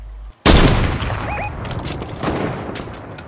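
Gunfire in the video game Fortnite, a sudden loud close blast followed by a rolling burst of rapid shots and echoing booms that trail off.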